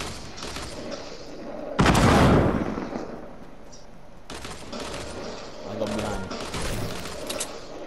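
Gunfire in the Fortnite video game, a loud burst of rapid shots followed by scattered bursts of fire at mid distance over steady background game noise.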